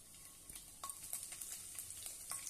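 Mustard seeds, cumin and finely chopped garlic frying in hot oil for a methi bhindi dish, a faint steady sizzle dotted with small pops and light stirring clicks, no voices.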